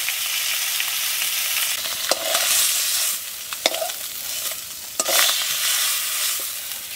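River fish sizzling in hot oil in a wok, a steady loud frying hiss broken by several sharp pops and spits as the fish crackles.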